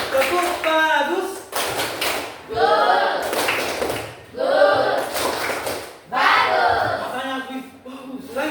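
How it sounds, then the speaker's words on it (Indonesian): Classroom students clapping hands together in bursts of rhythmic group claps, several rounds separated by short pauses, with children's voices chanting and calling along throughout. "Oke, tepuk tangannya. Tepuk bagus."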